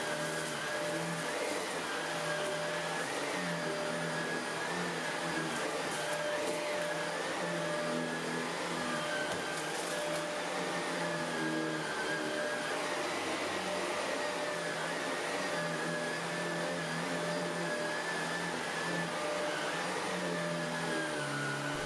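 A Shark Rotator Professional Lift-Away vacuum cleaner runs with its brush roll on, picking up dry leaves from carpet: a loud, steady motor whine that holds for the whole stretch with small fluctuations as it moves.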